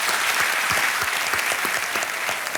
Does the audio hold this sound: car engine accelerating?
no